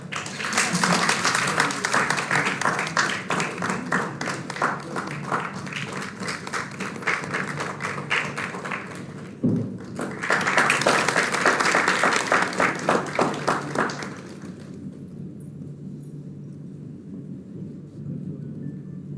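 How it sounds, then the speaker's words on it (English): Dense applause from an audience at a National Technology Day ceremony fills the room for about fifteen seconds, with a short dip in the middle, then fades to quiet room tone. "Please give a warm round of applause."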